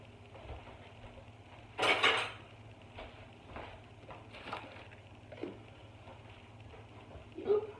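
Kitchen clatter while assembling a Mexican lasagna: a metal pot lid clanks sharply against dishes, followed by a few softer knocks and scrapes of cookware at close range, with a final small clink near the end.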